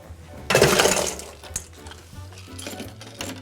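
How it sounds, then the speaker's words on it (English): Ice cubes tumble into a cocktail glass at a home bar, starting with a loud rattling crash of cubes and then settling into scattered light clinks and knocks as they fall into place. "All we're going to do is fill up our glass with some ice."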